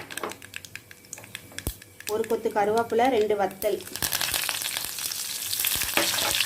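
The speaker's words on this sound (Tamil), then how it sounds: "கடுகு பொரிஞ்சதும்" Mustard seeds crackle in hot oil for radish sambar, sizzling and popping with sharp crackles while a voice talks over it; the crackling grows denser toward the end.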